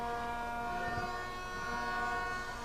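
Loud, sustained air horn blasting steadily at an outdoor youth football championship game, its compressor-driven horns fed from a car battery, holding a steady multi-tone chord with faint crowd noise beneath.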